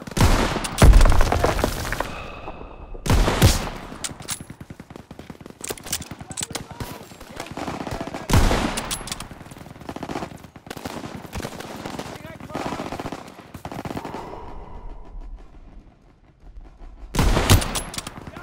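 Machine gun fire rattles in bursts in the Call of Duty WWII campaign, loud close volleys broken by heavy blasts and battlefield clamor, with shouted voices mixed in among the shooting.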